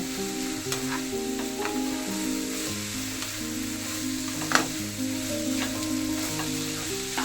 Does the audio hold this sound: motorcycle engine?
no